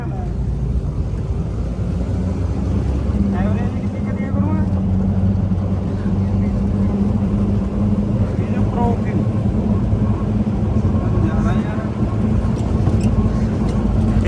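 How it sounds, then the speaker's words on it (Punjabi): A jeep engine runs continuously while driving, as a loud, steady low rumble throughout, with voices talking over it. "ਚੱਕਰ ਦੱਸਦੀ ਆ ਵੀ ਕਿੰਨੇ ਚੱਕਰਾਂ ਪਰ ਚੱਲਦਾ ਇਹ ਇੰਜਣ"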